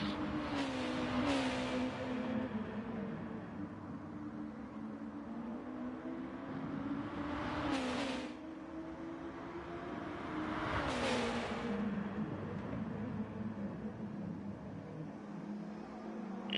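Honda NSX Super GT race cars lapping in Gran Turismo Sport, a steady engine drone running throughout with sharp gear-shift dips and rising revs repeating every few seconds, no talk over it.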